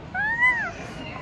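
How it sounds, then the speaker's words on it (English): A pet cat meows once, a rising then falling cry heard close by in a home, with a person's voice faintly in the background. "My cat's out!"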